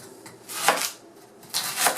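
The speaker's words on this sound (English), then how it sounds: "now I'm going to slice up the panucci bulb" A knife slices through a raw fennel bulb on a cutting board in a home kitchen, two crisp crunchy cuts spaced about a second apart, close and fairly quiet.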